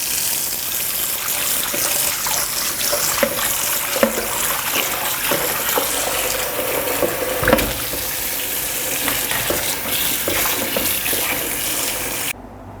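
Oranges rinsed under plain tap water: a continuous, fairly loud stream from the faucet splashes and gushes into the sink, with small clatters of the fruit moving, until it stops abruptly at the end.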